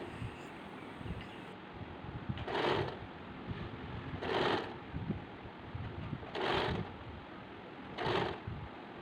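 A sewing machine stitches lace onto the inner edge of a child's circular top, with four short bursts of stitching roughly every two seconds over a continuous rustling, handling background.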